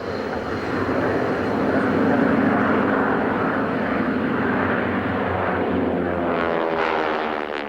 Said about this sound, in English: If there's one thing noisier than a Harvard, it's 4 Harvards in close formation.